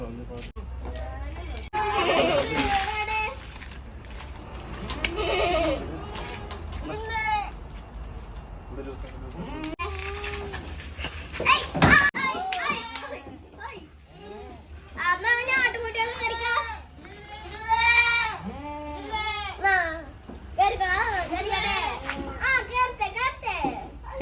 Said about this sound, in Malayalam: നന്നായിട്ട് പാലൊക്കെ ഉള്ള ആടുകളാണ്